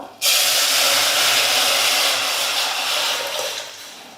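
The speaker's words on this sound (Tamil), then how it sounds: "கரைச்சி வச்ச ரசத்தை ஊற்றிக்கலாம்" Prepared rasam is poured into a hot tempering of spluttering spices with asafoetida, bursting into a loud, sudden sizzling hiss that holds strongly and then eases slightly over about four seconds.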